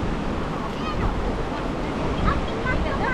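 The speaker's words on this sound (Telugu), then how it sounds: "జస్ట్ ఇట్లా ఫ్లో లాగా ఉంది, రివర్ ఫ్లో లెక్క" Water flowing along a river in the Araku valley, a steady broadband rush that stays even in level for the whole stretch, with no clear voices over it.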